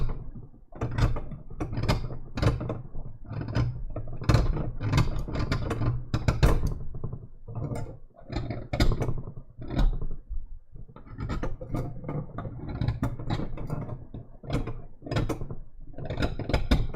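Carving tool scraping and grinding along the edge of a Chinese stone seal, rounding corners to give an aged look; continuous dense scratching strokes, close and fairly loud, with no talking.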